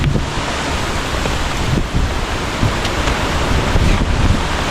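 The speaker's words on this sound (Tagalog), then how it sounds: "lakas ng hangin" Strong wind roars steadily across the microphone in a continuous rushing blast beside San Roque Dam, with no voices.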